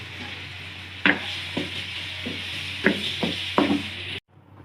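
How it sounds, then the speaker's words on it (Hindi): Finely chopped onions and spices fry in a pan, a low steady sizzle broken by several sharp scraping stirs of a spoon, ending abruptly before a faint tail. "अब हम इसमें ये सारे स्पाइसेस ऐड कर देंगे ताकि ये अच्छी तरह से भुन जाएं।"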